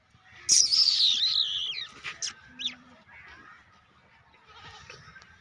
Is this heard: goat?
yes